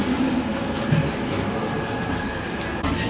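Steady rumble of a moving Swiss train from inside a carriage, continuous rolling noise with faint rail clatter and occasional squeal, muffled voices underneath.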